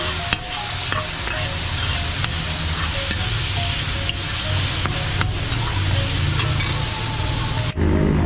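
Tomatoes tipped into garlic already sizzling in a flat pan, giving a steady, loud frying hiss with stirring scrapes and small clicks throughout, cut off sharply near the end.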